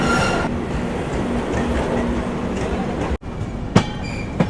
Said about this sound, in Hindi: हमारी ट्रेन 33 मिनट रुकने के बाद डिपार्ट कर रही है